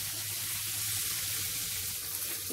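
Green chillies and garlic fry in a pan over a medium flame for a bottle gourd chutney, giving a steady, even sizzle that holds throughout with no one speaking.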